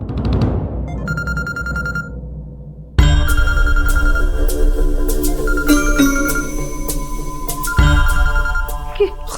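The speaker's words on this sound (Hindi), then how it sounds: "लो, दुआ हेडक्वार्टर से जासूस रवि के लिए फोन आ गया।" A telephone rings loudly in a dramatic television scene, repeating bell-like tones layered over swelling background music after a quieter opening.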